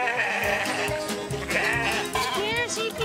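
Sheep on a Caribbean farm bleat repeatedly at close range, several wavering calls overlapping, mixed with people talking as the flock is let out of a pen with goats kept inside.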